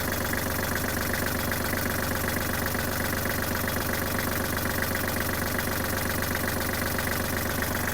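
A warmed-up Kubota GL-320 Japanese mini tractor engine idles with a steady, loud, close rhythmic diesel chug and knock that stays even throughout, with no talking.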